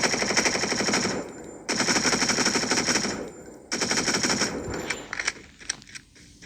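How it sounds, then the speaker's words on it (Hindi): Rapid submachine-gun fire rings out in a video game training ground, coming in three sustained automatic bursts with short gaps, loud and close, ending in a few scattered single shots. "अब मैं ट्रेनिंग ग्राउंड ओपन करता हूँ और अब मैं आपको दिखाता हूँ SMG का रेट ऑफ फायर और डैमेज।"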